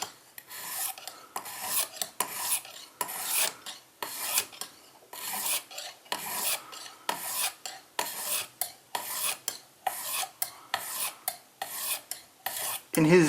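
A knife is drawn across a Lansky Deluxe sharpening system hone set at 25 degrees, a steady series of close, gritty rasping strokes repeating roughly twice a second with no talk.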